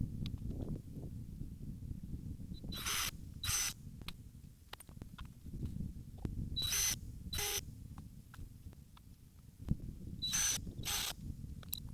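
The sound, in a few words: screws being driven to fasten boards down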